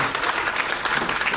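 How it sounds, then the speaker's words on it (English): Brief burst of loud congregational clapping in a church service, dense and sustained with no gaps. "Go ahead and give him a hand clap of praise."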